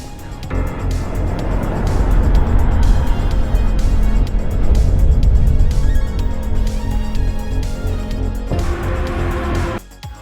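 A high-end car tears through Hong Kong streets in the racing game Test Drive Unlimited Solar Crown, its engine roaring loud and steady for about nine seconds before cutting off abruptly.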